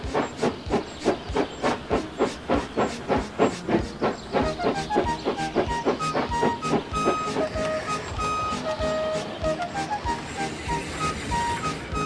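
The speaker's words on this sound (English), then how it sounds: "Once the train was moving, the coaches followed smoothly." A steam locomotive chuffs rhythmically, its hissing puffs coming fast and even, then blending into a continuous steamy rumble as it gathers speed.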